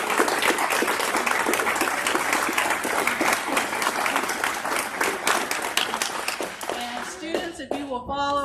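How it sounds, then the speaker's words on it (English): A room of people at a school board meeting applauds student honorees with sustained, dense clapping, loud and steady throughout before tapering near the end, as voices start to rise over it. "let's give them one more round of applause for the talented individuals they are."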